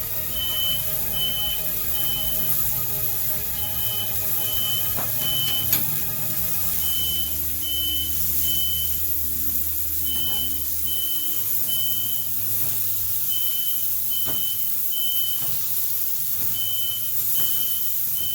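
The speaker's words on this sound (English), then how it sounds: "Sorry about the smoke alarm, guys." Smoke alarm set off by smoke from a griddle while cooking smash burgers indoors, chirping in a steady run of short high beeps through the whole stretch over low kitchen background noise.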